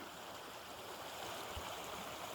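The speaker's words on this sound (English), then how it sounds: "Pretty little creek." A small creek flows at a quiet distance, a steady soft rushing wash that stays even throughout. A brief low thump comes midway.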